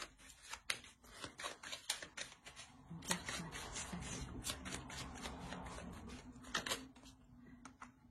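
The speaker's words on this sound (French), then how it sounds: "Je vais rajouter une carte." Tarot cards being shuffled and drawn by hand, a run of crisp papery snaps and riffles with a denser rustling stretch in the middle, close and fairly quiet with no talk.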